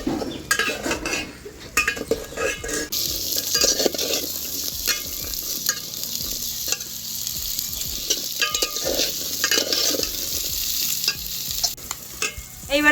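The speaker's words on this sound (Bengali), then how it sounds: "এরপর দিয়ে দেবো কড়াইশুঁটি।" Shelled green peas being stir-fried in a kadai for matar pulao, with steady sizzling and repeated scraping and clinking of a metal spoon against the pan, close and continuous.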